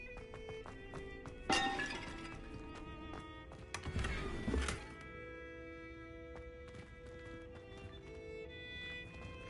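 In the Hogwarts Legacy video game, the Incendio fire spell is cast, producing a sharp burst and then a longer rushing, crackling blast a few seconds later, set over soft ambient game music and scattered small clicks.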